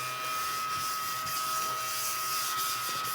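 A small desktop vacuum cleaner runs steadily at a craft table while gilded leafing flakes are cleaned up, giving a continuous close hiss and whine with no pauses or voices.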